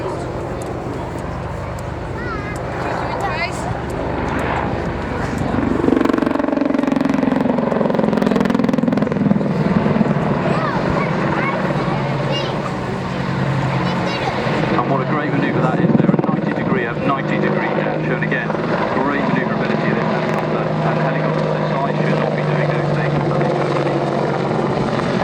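An Apache attack helicopter's engine and rotors drone loudly and continuously during an air display at Waddington, while people talk over the steady mechanical roar.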